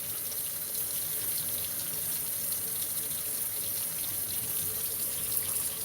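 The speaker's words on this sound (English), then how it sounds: "Just let that water run over that steak." Cool tap water runs steadily over a raw steak in a kitchen sink, a continuous close splashing gush that holds even for the whole stretch with no talking.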